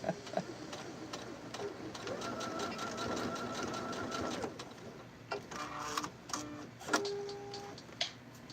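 A sewing machine stitches shut the opening of an elastic casing on a New Look 6758 garment, running in close bursts of rapid stitching separated by short pauses and clicks, with faint cooing tones in the background.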